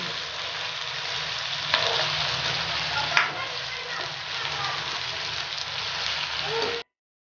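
Charsi karahi frying in a pan as tomatoes go in, producing a steady close sizzle and crackle with a couple of brief sharper bursts before it cuts off.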